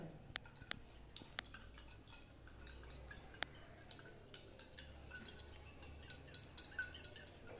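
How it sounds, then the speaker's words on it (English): A glass beaker being stirred to mix in water, with sharp clinks of the rod against the glass followed by a run of soft tapping and swishing strokes, close and alone. "Then just go for stirring for proper mixing."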